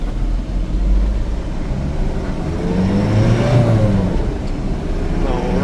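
A Mazda Bongo diesel van pulls away in first gear, its engine rising in pitch as it accelerates, heard from inside the cab as a steady near drone over road rumble.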